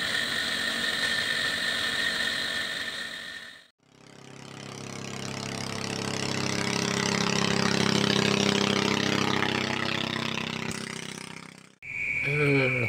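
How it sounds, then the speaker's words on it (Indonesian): A Hitachi engine running during an afternoon fishing trip, a steady mid-pitched mechanical drone that swells louder mid-way, bracketed by brief breaks with squealing sounds at either end. "itu mesin Hitachi hidup"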